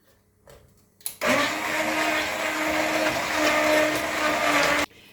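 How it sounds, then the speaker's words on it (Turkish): A blender purees fresh strawberries in a kitchen, starting with a sudden loud whir that holds steady for several seconds at close range and then cuts off abruptly. "Şimdi blenderla bu çilekleri geçeceğim."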